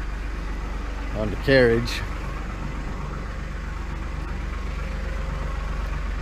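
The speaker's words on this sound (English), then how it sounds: "This is just our dust collection blower" A sawmill dust collection blower running with a steady low droning hum throughout, under a short burst of someone speaking.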